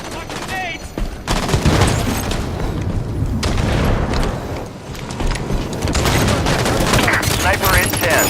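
Rapid bursts of automatic gunfire and booming grenade explosions in Halo 5 multiplayer, loud and nearly continuous, with game announcer voice lines and player callouts mixed in.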